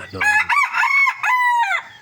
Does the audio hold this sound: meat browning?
no